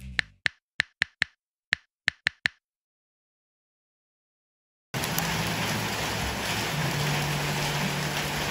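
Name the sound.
rain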